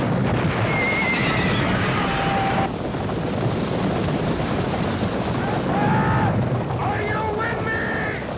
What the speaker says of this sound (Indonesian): Laksana badai topan, kuda-kuda Perancis menyerbu maju di padang Waterloo.